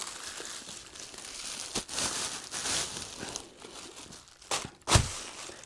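Outer packaging of a Canon EOS R3 camera is unwrapped, with intermittent crinkling and tearing of paper and plastic close by and a few sharper rips, in an otherwise quiet room.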